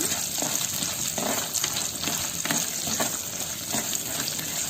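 Dried red chillies frying in oil for Chettinad mutton pepper chukka, a close, steady sizzle with occasional stirring scrapes and soft crackles throughout.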